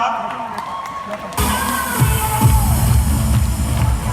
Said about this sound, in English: Can all of you stand up and give applause to our brand new press team member?